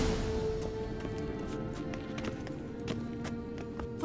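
A horse gallops in The Witcher 3 video game, a steady run of hoof clip-clops close up over a constant ambient game background, with no voices.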